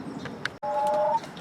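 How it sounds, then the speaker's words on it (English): Backyard hens clucking in a garden, a few short close calls in quick succession with one longer drawn-out cluck near the end. "our chickens think they're getting a treat"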